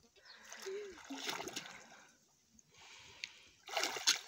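Water splashing and sloshing in a swimming pool in uneven bursts, with voices talking nearby over the splashes.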